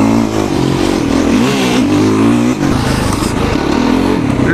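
A Yamaha YFZ-R quad engine revs hard on a race circuit, loud and close, its pitch rising and falling through repeated throttle blips with no break in the roar.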